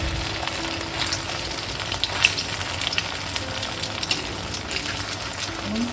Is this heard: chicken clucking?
no